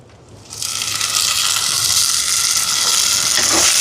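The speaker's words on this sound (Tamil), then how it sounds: "இப்போ பாருங்கள், வெங்காயம் நல்லா வதங்கி வருது" Onions fry in a pan over a wood fire, a bright sizzling hiss that bursts in loudly after a quiet start and holds strong and close to the end.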